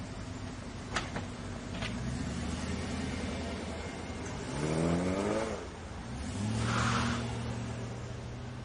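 A car pulls away to follow a black car, its engine revving up in two rising surges over a low running hum, with a few clicks earlier.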